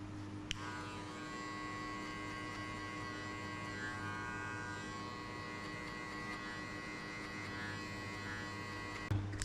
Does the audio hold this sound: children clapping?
no